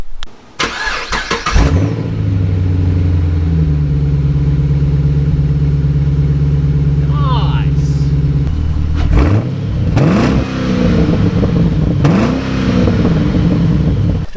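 A car engine with the mufflers removed and straight pipes fitted starts with a sputter, then settles into a loud, raw idle before several sharp revs climb and fall, close and unmuffled.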